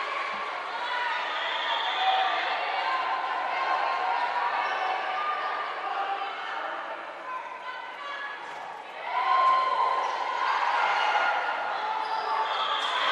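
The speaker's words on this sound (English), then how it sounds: "you can tell the crowd is absolutely loving it for Tampa" Arena crowd at a volleyball match between Tampa and Nova cheers loudly and steadily throughout, swelling into a louder roar near the end, with a few sharp squeaks and bounces in the background.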